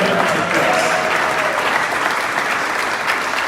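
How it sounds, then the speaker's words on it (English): A crowd at a mayoral inauguration in Greenwich, London, gives the outgoing mayoress a steady, full round of applause, loud and continuous from start to finish. "Can we give her a round of applause?"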